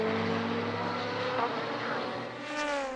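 Endurance race cars at the 4 Hours of Barcelona passing on the circuit, engines droning loudly then rising in pitch as one car sweeps past near the end.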